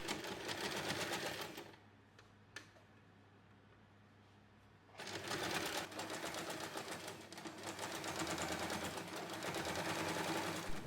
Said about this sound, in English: For the final step, top stitch all around the edge.